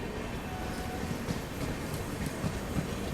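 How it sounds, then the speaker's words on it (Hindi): Sealdah Rajdhani Express hauled by a WAP7 electric locomotive passing close by, a loud steady rumble of rolling wheels with rhythmic clickety-clack thumps over rail joints. "WAP7 Sealdah Rajdhani express."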